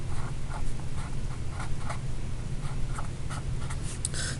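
Steady pen strokes scratch across paper with short rhythmic scribbles and taps over a low background hum, close and fairly quiet, working through a chemistry balancing problem.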